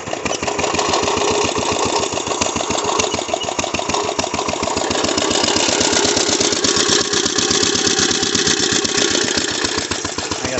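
A 1937 International tractor fitted with a 1.5-horsepower lawnmower engine runs nearby, its small motor chugging in a fast, even, loud rhythm that stays steady throughout.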